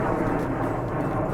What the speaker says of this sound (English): So you're gonna hear planes from time to time as they're taking off and landing at that Sky Harbor Airport